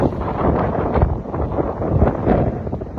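Strong winter wind gusts in Asheville buffet the microphone in loud, rumbling waves that rise and fall across the whole stretch, with no voices.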